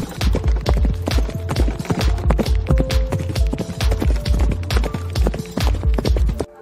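Horse hooves clip-clop in a steady, brisk rhythm for several seconds, loud and close, with no voices over them.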